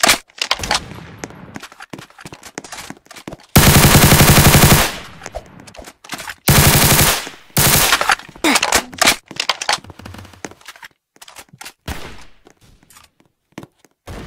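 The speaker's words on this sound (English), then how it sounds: "My boy, I get a Tommy gun." Tommy gun fire in the video game Fortnite: loud sustained automatic bursts, two long ones of a second or more, then scattered shorter shots and thuds, with little talk.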